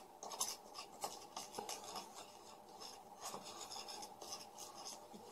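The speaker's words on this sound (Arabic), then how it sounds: "نعجن بيها الريفو او الاسبرين." Rivo or aspirin tablets being mashed and worked into homemade onion extract, a steady gritty scraping and rubbing with repeated strokes, close and fairly quiet with no voices.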